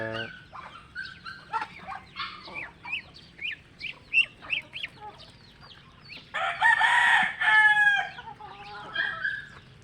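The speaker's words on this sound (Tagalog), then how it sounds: "Ayan yung mga duckling." Chickens and ducklings on a poultry farm, with a run of short rising chirps and clucks followed by a louder burst of crowing-like calls, close by and steady throughout.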